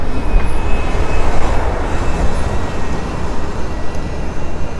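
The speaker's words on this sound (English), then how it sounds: "That train comes all the way around, apparently. Oh, well, coming this way." A train passes near a Portland station, a steady, loud rumble of rail cars that runs without a break and carries a faint high whine, with no voices heard.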